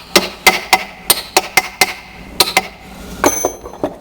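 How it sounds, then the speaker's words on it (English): A Troy-Bilt transmission part being tapped back into place during reassembly: a series of sharp, close metallic knocks in an irregular rhythm, about a dozen taps loud and isolated. "you can see I got to tap it to get it back on"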